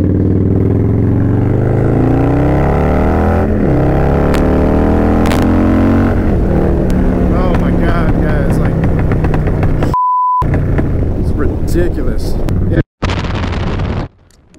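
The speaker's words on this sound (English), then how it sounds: "second gear, let's do a pull" A Harley Softail motorcycle tuned to about 151 hp pulls hard in second gear, its loud, rough engine note rising in pitch with wind buffeting. A long tone beep interrupts it, then the sound cuts out and drops in level near the end.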